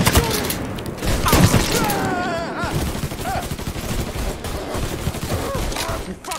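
Dense gunfire in the Mafia III video game, a loud sustained volley of overlapping shots and thuds with a person shouting over it.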